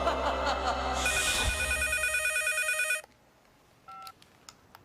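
A telephone rings loudly for about three seconds with a bright trilling bell, then cuts off, followed by a couple of faint electronic beeps and quiet clicks.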